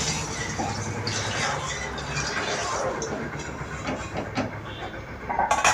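Bhola fish hits hot oil for a Bengali fish curry with eggplant, setting off a loud, continuous close hiss and sizzle that surges louder near the end.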